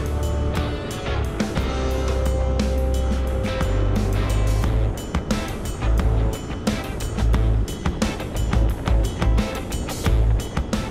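A motorcycle ridden at night with the throttle opened, producing a loud, continuous roar mixed with heavy wind buffeting, rising and falling in surges while the engine note and wind noise stay close throughout.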